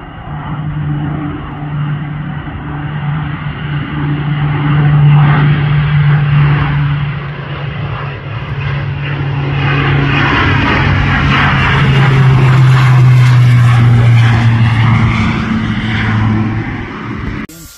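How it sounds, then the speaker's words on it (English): A pneumatic needle scaler descales a metal capstan, making a loud, continuous buzzing rattle over a low droning hum that swells and fades slightly for about eighteen seconds, with no talking. "I'm going to needle scale it"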